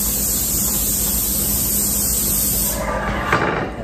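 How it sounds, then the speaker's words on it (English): Olive oil spray hisses onto a baking pan in one steady, close spray lasting a few seconds before tapering off. "I'm just gonna lightly spray my pan."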